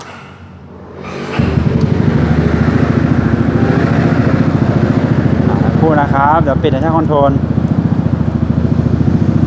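A 2018 Yamaha X-Max 300 ABS scooter fitted with a sound-reducing muffler insert starts after a moment of quiet and settles into a steady, rhythmic idle, with someone talking over it partway through.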